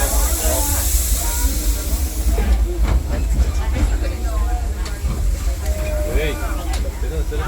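The Fred Gurley steam locomotive of the Disneyland Railroad hissing steam, a loud steady hiss strongest at the start and continuing beneath a murmur of voices on board.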